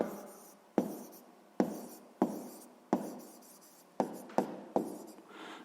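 A pen writes on paper during a sixth-grade maths exercise, a series of close, quiet scratchy strokes, each starting with a tap and fading, in an irregular rhythm.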